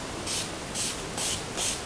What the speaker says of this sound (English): I'm just going to set everything with my Urban Decay setting spray.